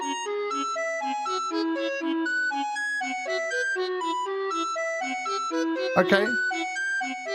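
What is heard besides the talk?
Chinese wind instrument played in KA Mini Collection iOS app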